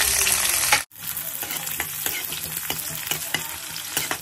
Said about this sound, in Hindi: तेल हो गया गरम, अब इसमें डालेंगे जीरा, तो इसी के साथ इसमें डालेंगे प्याज